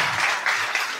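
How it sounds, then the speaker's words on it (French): A short burst of audience applause greets a panelist at a forum on family businesses and generational succession, dense and steady throughout with no speech. "Gros tonnerre d'applaudissements pour Niv."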